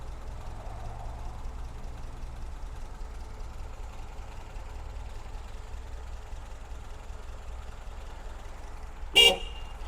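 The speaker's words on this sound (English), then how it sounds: "Horn works." A 1977 Lada Niva (VAZ 2121) engine idles steadily for several seconds, then a single short, loud honk of its horn sounds near the end.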